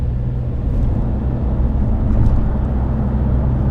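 Lotus Emira 2.0 in track mode pulling hard on a Tokyo street, a steady low engine rumble heard from inside the cabin, loud and even with no voices over it.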